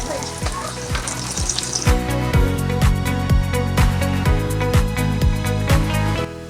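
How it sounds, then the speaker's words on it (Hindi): Falafel balls deep frying in hot oil on a low flame, a steady close sizzle and bubbling, with rhythmic clinks and scrapes of a utensil stirring in the pan. "अब हम थोड़ा फ्लेम जो है वो लो पे कर देंगे और ताकि ये अच्छे से फ्राई हो जाए"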